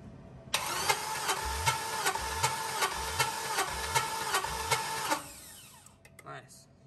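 A 4.8L LS V8 with an aggressive cam cranks over on the starter during a compression test. About five seconds of rhythmic, evenly spaced cranking pulses are followed by a brief clatter as the cranking stops.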